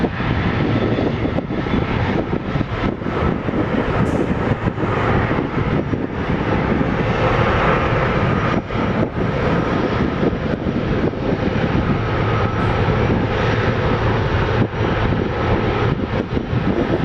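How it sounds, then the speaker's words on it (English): A Boeing 777 jet takes off at Toronto Pearson airport, a steady, loud, broadband engine roar that holds for the whole stretch with no break, heard from nearby. "This 777 is taking Quebec."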